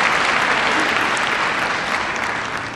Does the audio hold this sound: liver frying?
no